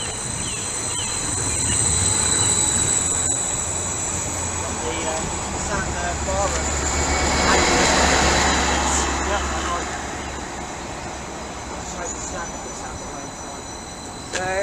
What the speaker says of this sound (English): Incoming now we have a 1432 Greater Anglia service to Ipswich 755 417.